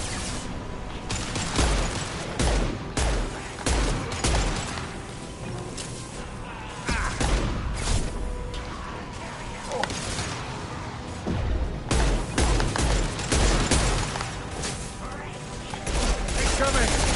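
Dense, rapid gunfire in the video game Mass Effect Legendary Edition, with bursts of automatic fire, single shots and impact crashes running continuously and loudly through the whole stretch, while players talk over the combat.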